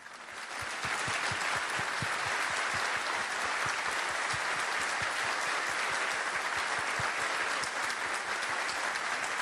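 Auditorium audience at a lecture giving a sustained round of applause, thick continuous clapping that rises quickly and stays loud and even for several seconds with no talk over it.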